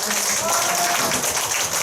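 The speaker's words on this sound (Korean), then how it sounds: "우리 두 분을 위해서 큰 박수 한번" Audience applause at a women's committee workshop, a steady dense wash of clapping filling the short stretch at a constant level, with a voice faintly audible underneath.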